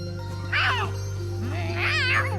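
A cat in the video game Tales of Xillia 2 gives two clear meows about a second apart, close and distinct over a steady low in-game hum.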